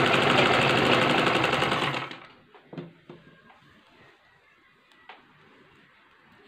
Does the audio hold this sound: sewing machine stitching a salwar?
yes